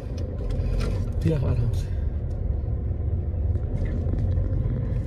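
A car engine rumbles low and steady inside the cabin while a learner driver works the gear, clutch and accelerator, with voices talking over the drone.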